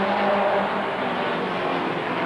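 Race cars roar around the oval at Rockford Speedway during a final lap, a dense continuous engine drone with steady loudness and no voices.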